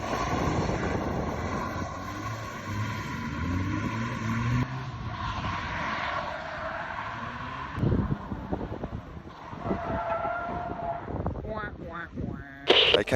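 An SR20-engined Mazda MX5 NC skids on a wet paddock, giving a loud engine drone with rising and falling revs, rough bursts and gusty noise, while a voice talks over part of it.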